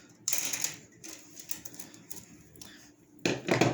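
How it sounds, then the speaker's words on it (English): Wire cutters snipping the wires off an old fluorescent light ballast, with several sharp clipping and rustling bursts at close range and quieter handling sounds in between. "Now this is the old ballast, so you just want to cut these wires off."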